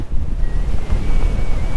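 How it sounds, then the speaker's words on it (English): Strong wind buffeting the microphone on the Blackpool seafront beach, a loud continuous low roar with gusty rumbling and no talking. "oh, it's so windy"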